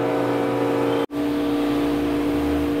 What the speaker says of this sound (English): That noise you're hearing is the freeze dryer.